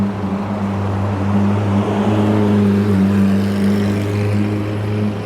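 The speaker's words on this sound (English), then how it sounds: "Nice car coming up, Aaron, look, that'll do me." A luxury car passes on New Bond Street in London, a loud steady engine drone with low rumble holding throughout, no talk over it.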